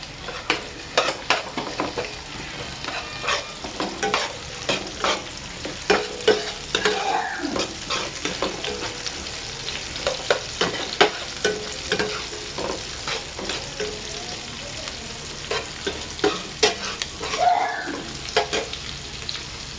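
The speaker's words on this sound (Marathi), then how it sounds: "कांदा पण चांगला शिजून घेऊ" Square-cut onion pieces fry and are stirred in a pan for idli chilli masala, with a steady close sizzle broken by repeated scraping stir strokes throughout.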